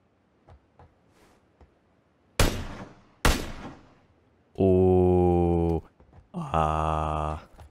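Two sharp, loud SKS rifle shots in PUBG cut through quiet footsteps, followed by sustained sustained droning tones.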